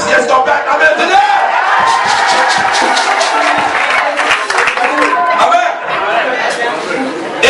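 A church congregation claps and cheers, the applause loud and dense and mixed with crowd chatter and raised voices, dipping briefly near the end before swelling again.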